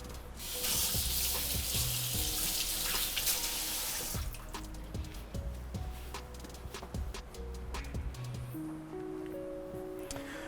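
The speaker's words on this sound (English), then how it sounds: "Just give my hands a little rinse." Running tap water splashes loudly as hands are rinsed under it for about four seconds. Then the flow stops, leaving light clatter and handling noises in a kitchen.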